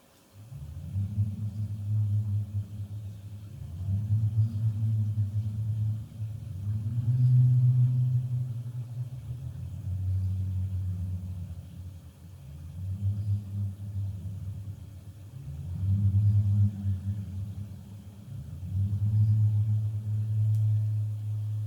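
An amplified porotiti, the Māori spinning disc instrument of taonga puoro, makes a deep pulsing whirr that swells and fades in regular waves about every two seconds, steady and close throughout without any talking.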